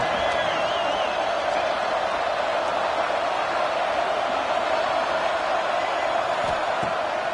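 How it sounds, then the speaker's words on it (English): Football stadium crowd roaring steadily on a third down for Tech, a dense, loud wall of cheering and whoops that holds throughout without letting up. "The crowd electric trying to help Tech on this third down."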